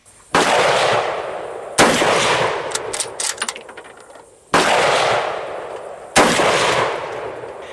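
Four loud gunshots from an old FR8 .308 Mauser bolt-action carbine rifle, each a sharp crack followed by a long decaying echo, spaced a couple of seconds apart with no talk.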